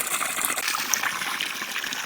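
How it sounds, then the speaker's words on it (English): Water gushing and splashing into pans being filled, a steady close rushing pour with no voices. "So I'm going to get all these water pans clean and filled"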